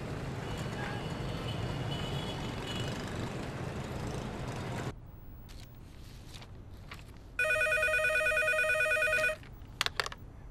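A telephone rings in a police station scene, a single bright electronic ring burst standing out clearly after a quieter stretch, following busier background sound at the start.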